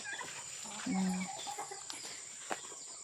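Free range chickens on a farm cluck in a short low burst, with a faint steady hum and scattered small noises around them.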